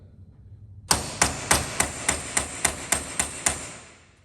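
A hammer raps a Dodge Chrysler power steering box being overhauled, striking about ten sharp metallic blows at an even, quick rhythm, close and loud after a brief quiet start.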